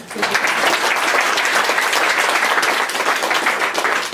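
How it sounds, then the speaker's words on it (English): A crowd applauds steadily and loudly, dense clapping filling the whole stretch without pause. "Round of applause."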